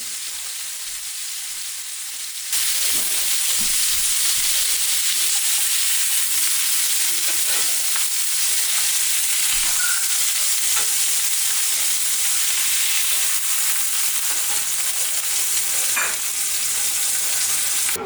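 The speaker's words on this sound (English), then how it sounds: "then I'll form the patties and get those cooking in the skillet" Burger patties frying in a skillet: after a quiet start, a sudden loud, dense sizzle takes over and holds steady, close by, with faint occasional taps, no one speaking.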